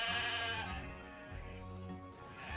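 A sheep lets out sustained, quavering bleats, steady and fairly loud, with a brief dip in the middle and no voices over it.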